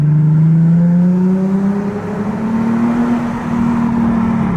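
A Nissan 370Z Nismo with a single-exit exhaust accelerates under an overpass, its loud engine note rising smoothly in pitch through a pull and then holding steady, close and dominant with no talking.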